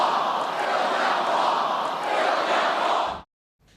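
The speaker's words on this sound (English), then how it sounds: "The crowd was chanting," A large crowd at a Trump rally chanting "Build that wall," a loud, dense roar of many voices that holds steady for about three seconds and then cuts off abruptly.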